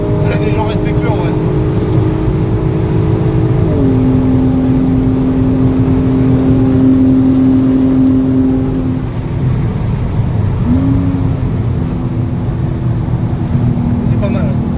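Nissan Skyline R32 driving and accelerating, its engine a loud, continuous drone whose pitch climbs, then drops abruptly as gears change, with a second shift later on. The car sounds close throughout.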